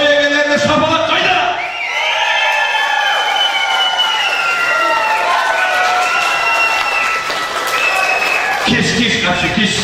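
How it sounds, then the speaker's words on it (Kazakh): A wedding crowd claps and cheers loudly and continuously for the hosts, with whoops and shouts rising over dense applause, while a voice carries over the noise. "Бүгінгі той егелеріне шапалақ қайда?"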